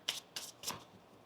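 Tarot deck being shuffled during a card reading, three quick riffling bursts close to the mic, each a brief papery flutter, with quiet gaps between and no speech.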